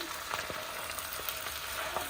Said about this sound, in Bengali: এরকম নাড়তে থাকবো আরও কতক্ষণ